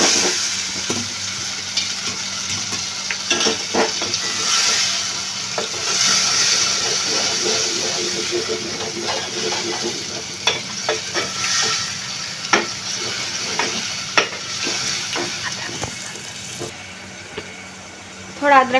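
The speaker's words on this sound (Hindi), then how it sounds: "टमाटे डाल दिए। थोड़ा मिक्स कर लेना आपको" Chopped tomatoes sizzling steadily in a hot pan while a spoon stirs and scrapes through them, repeated close clacks over a continuous frying hiss, with someone talking intermittently.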